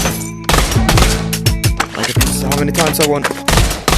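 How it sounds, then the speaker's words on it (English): Pistol burst fire in the VR shooter Pavlov, loud rapid clusters of sharp shots in quick succession with short pauses between bursts, close up, while a person talks over the gunfire. "for the pistols, this now actually has a delay on the burst, so you can't make it fully automatic anymore"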